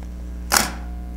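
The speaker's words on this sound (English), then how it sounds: "So there's our shutter." A single crisp shutter click from a Nikon F2 film camera, one short close snap over a quiet background hum.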